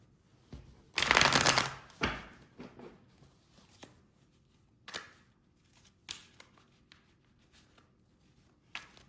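A deck of tarot cards is shuffled up close, with one loud riffle burst followed by quieter taps and short flicks, and no talk.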